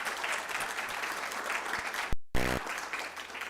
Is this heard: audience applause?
yes